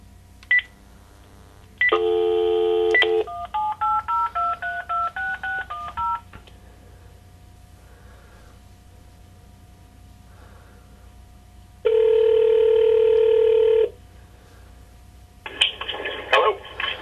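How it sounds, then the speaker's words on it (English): Touch-tone keypad dialing before a phone call: a fast run of DTMF beeps, then longer steady tone bursts with pauses between, loud and clear with no voices. "about to phone Victor Valimaki."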